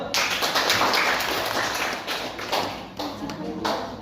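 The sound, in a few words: clapping hands in a classroom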